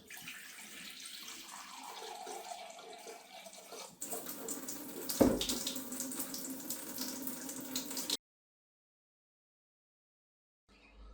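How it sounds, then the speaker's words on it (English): Water runs from a water filter tap in a steady stream, changing pitch as a container fills for sourdough bread, then cuts off abruptly into silence. "we use a water filter that I'm going to get this water from"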